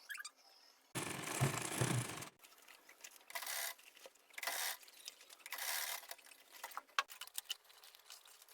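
A sewing machine stitches around an Ankara-fabric crossbody bag in several short whirring runs separated by pauses and faint mechanical clicks, close by with no talking.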